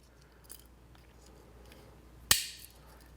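A small spring-loaded pair of scissors on an everyday-carry multitool snaps shut, one crisp metallic click standing out after faint handling rustles, close to the ear.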